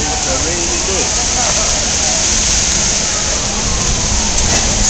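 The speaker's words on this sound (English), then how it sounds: "It's a rainy day today." Rain falling in Times Square, a loud, dense hiss of drops on pavement with a steady wash of city traffic beneath and occasional faint street sounds.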